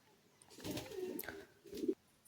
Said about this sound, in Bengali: দেখুন পায়রাগুলো সব স্নানের জন্য চলে এসছে